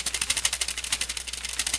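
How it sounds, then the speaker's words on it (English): Rapid, evenly spaced clicks of a keyboard key being tapped over and over, crisp and close, with a faint hum beneath. "I hit the space bar quite a few times there"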